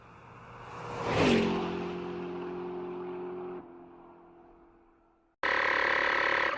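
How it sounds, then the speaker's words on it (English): A portable rechargeable tire inflator pump starts up with a rising whir, then runs as a steady, fairly loud mechanical drone with a buzzing tone before the pitch and level drop, followed by a sudden louder burst of noise near the end. "I long press the pump button and it turns on the device"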